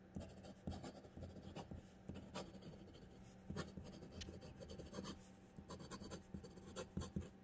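Fountain pen nib scratching across paper in close, continuous strokes with short pauses between words, quiet and dry with no talk.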